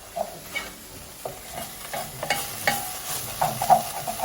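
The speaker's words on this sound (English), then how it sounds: "Just gonna give it a quick stir." Stirring a pot of butter chicken curry simmering over medium heat, with a spoon scraping and tapping through the thick sauce in a few soft, irregular strokes over a low bubbling sizzle.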